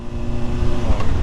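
A Honda Hornet 600 motorcycle engine runs with a steady, rough mechanical rumble, loud and close, with slight swells in revs over windy road noise.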